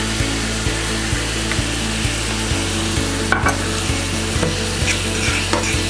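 Chicken and steak stir-frying in a pan with sweet and sour sauce, a steady close sizzle broken by regular scraping clicks of the utensil as the meat is stirred around.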